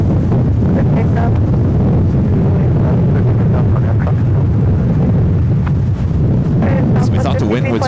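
Strong wind at San Francisco airport buffets the microphone in a constant loud, low roar that never lets up, with talk heard through it.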